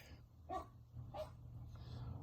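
Two short dog barks sound from a distance, faint against a low steady hum, followed by a softer third yelp.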